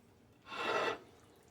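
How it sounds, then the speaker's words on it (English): A soft, brief wet rubbing sound as spicy brown mustard binder is worked by hand into a beef shoulder roast, close up and lasting about half a second. "Rub it in that meat."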